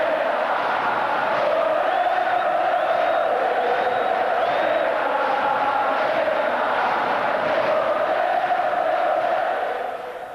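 Large stadium crowd of Brazilian fans saluting Ayrton Senna, roaring and chanting together in a loud, sustained wash of voices with occasional whoops and cries. The roar holds steady and fades slightly at the end.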